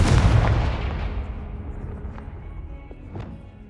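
A Confringo blasting spell goes off in Hogwarts Legacy as a heavy booming explosion that rumbles and slowly decays, followed by a couple of fainter distant pops, with no talking.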